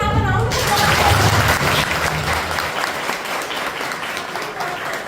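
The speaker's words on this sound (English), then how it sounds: "Can we have a round of applause?" Members of a Toastmasters club meeting applaud their panelists in a dense, loud burst of clapping that gradually thins and softens over a few seconds.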